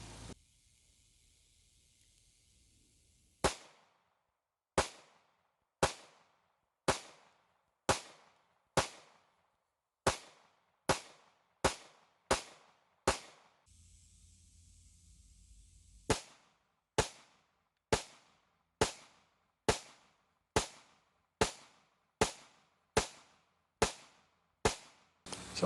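A Taurus PT111 Millennium G2 pistol fires about twenty sharp, evenly spaced shots at a range, split into two strings by a short pause of faint hiss, each crack close, loud and quickly decaying.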